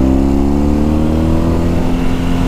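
A BMW R1200S boxer-twin sport motorcycle engine revs hard, a loud, close, rising growl with a climbing pitch, heard alone without talk over the short burst.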